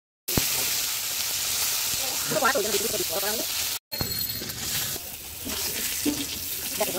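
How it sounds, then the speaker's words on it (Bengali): Potatoes fry in hot oil in a home kitchen, a loud continuous sizzle broken by a brief cut, with a person talking over the frying in the second half. "আমি আলুটা ভেজে নিচ্ছি।"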